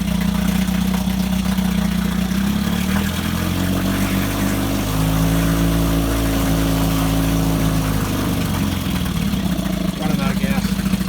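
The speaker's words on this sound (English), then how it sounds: "Really nice running little engine though." A 1961 Evinrude 3 hp outboard motor runs continuously at a steady, buzzy idle with slight shifts in pitch, close and loud, and its running slowly wavers as it nears running out of fuel.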